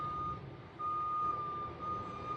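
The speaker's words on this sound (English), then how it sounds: "It's the trash truck." Reversing alarm of a garbage truck: a steady, moderately distant series of high electronic beeps repeating at an even pace over low truck rumble, with no talk.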